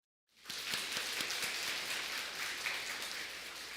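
A room of people breaks into applause, steady clapping rising quickly and holding loud for several seconds.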